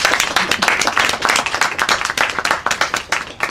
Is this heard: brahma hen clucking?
no